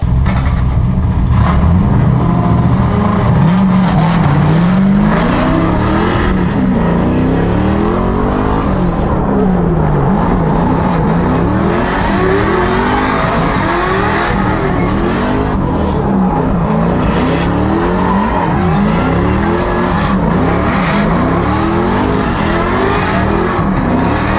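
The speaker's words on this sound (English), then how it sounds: "Nick sends him off, and Taylor Ray out the gate" LS3-swapped Mazda Miata race cars launch off the line at a drift battle, with loud, sustained V8 engine roars and rising, falling revs that fill the entire stretch.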